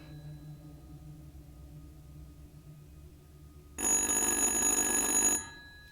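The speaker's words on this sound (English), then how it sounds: "Answer the goddamn phone!" Telephone ringing in the video game The Dark Pictures: Little Hope, a loud bright electronic ring bursting in after a quiet low ambient hum and cutting off about a second and a half later.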